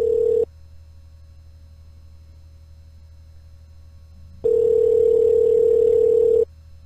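A steady telephone tone on a prank call to a motel, heard as a loud continuous pure hum that stops, leaves a quiet line hiss for a few seconds, then returns for about two seconds.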